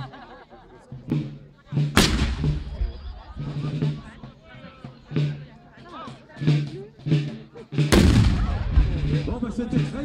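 Cannon artillery booming at a Napoleonic bicentenary reenactment bivouac in Reims Tinqueux, with two loud blasts rolling out amid a murmuring crowd and people talking nearby.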